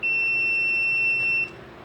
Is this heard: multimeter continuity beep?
yes